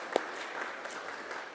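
A congregation at a Unitarian Universalist Sunday service applauds two guest musicians, a brief, soft patter of scattered clapping that continues evenly throughout.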